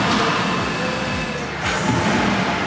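2011 Nissan Murano engine idling after a stalling and poor-idle problem, a continuous low mechanical rumble with faint ticking, steady and close throughout the short clip.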